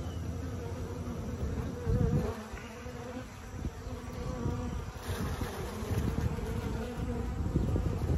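A calm honeybee swarm buzzes steadily at a Langstroth hive, a dense, continuous drone of many wings close by, with slight swells in loudness and no talking.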